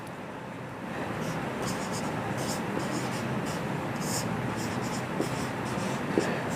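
A pen scratches steadily across a surface as a chemistry solution is written out, a soft continuous scribble with brief strokes over room noise.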